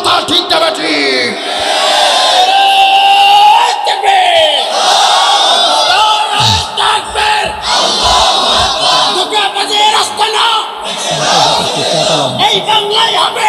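A large crowd at a Bangladeshi religious rally roars back in unison, a loud sustained shout of many voices that swells, then breaks into scattered yells and cheers.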